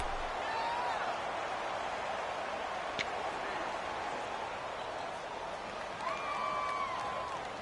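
A video-game stadium crowd at an American football match on PS4 gives a faint, steady roar with a few brief ticks and swells, heard alone and at a distance.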